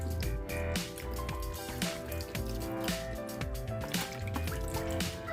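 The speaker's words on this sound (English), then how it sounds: "I'm also going to add in a whole thing of vegetable broth" Vegetable broth pours from a carton into a pot with steady splashing and dripping liquid, glugs and trickles at close range, and no voices.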